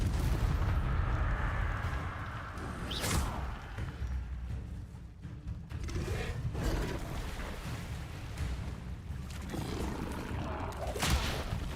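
Bombarda blasting spell explosions in Hogwarts Legacy, several sharp booming blasts with mechanical clatter amid continuous combat noise.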